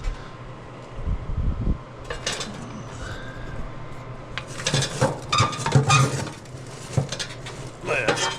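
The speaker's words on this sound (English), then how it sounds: "I'm gonna shovel everything over to one side, rake all the coals back over to the other, put the ashes in the bucket" A shovel and rake scrape across coals and ash, giving gritty metallic scrapes and clanks in irregular bursts, close by, with a steady mechanical hum underneath.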